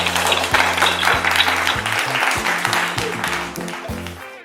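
Loud, dense clapping from a crowd at a jewellery store's anniversary family event fills the moment, with low sustained musical tones running underneath and the applause tapering slightly toward the end.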